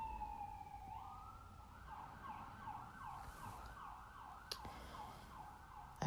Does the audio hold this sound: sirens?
yes